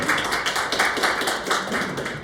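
A group of people claps together during a workshop activity, producing a steady run of sharp, loud hand claps that rise and fall in quick, even bursts with no talk over them.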